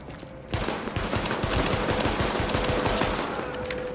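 Rapid pistol shots in Tom Clancy's The Division, a dense run of close, loud cracks in quick rhythm lasting several seconds.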